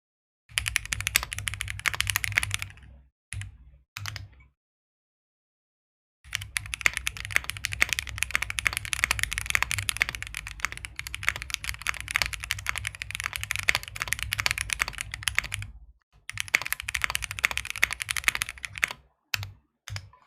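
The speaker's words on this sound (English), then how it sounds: "this is the JRIS65 with absolutely no foams, just an FR4 plate and SP star meter white switches and a GMK" Typing bursts on a JRIS65 custom mechanical keyboard with an FR4 plate, no foam, and white linear switches under GMK keycaps, close and crisp, rattling rapidly with short pauses between runs.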